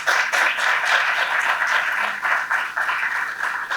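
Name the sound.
audience applauding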